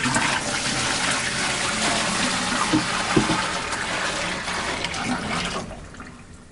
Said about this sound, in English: let's dump this nasty water